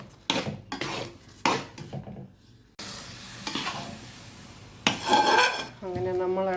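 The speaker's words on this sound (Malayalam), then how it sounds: "അങ്ങനെ നമ്മൾ ഇളക്കിക്കൊണ്ടേ ഇരിക്കുകയാണ്." A spoon scrapes and knocks against a pan as jackfruit halwa cooked in ghee is stirred, giving a series of close scraping strokes with a soft sizzle beneath.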